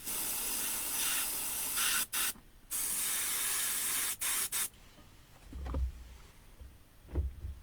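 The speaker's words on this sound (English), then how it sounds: "spray it onto something else to make sure there's no black in there" An airbrush sprays paint onto a 1/10 scale RC car body shell in steady hissing bursts with brief pauses between them, followed by a few faint rubbing sounds.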